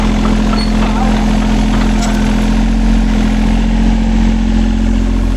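A Tata Hitachi Zaxis 38U mini excavator engine idles loud and close at a pipeline pit dig, a steady low rumbling drone throughout with a voice talking over it.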